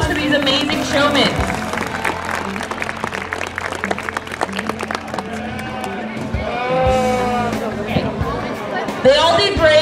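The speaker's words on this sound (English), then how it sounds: "Can we get a round of applause for these amazing showmen?" A crowd applauds the young showmen at a lamb show during a town celebration, steady clapping running under a loudspeaker voice and general crowd chatter, with a few animal-like calls near the end.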